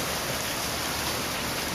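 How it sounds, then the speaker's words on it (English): Heavy rain suddenly pouring down, a dense continuous hiss of drops hitting surfaces, steady and fairly loud with no voices. "all of a sudden the skies opened up and it started to pour"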